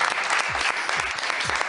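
Studio audience on a French television variety show claps loudly and continuously for a singer, a close, bright burst of applause with no talking over it.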